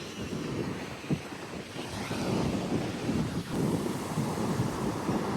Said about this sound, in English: These waves are insane.